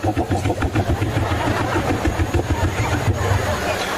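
A voice imitates a motorbike engine with a steady, pulsing buzzy drone during a sermon, loud and close, lasting several seconds.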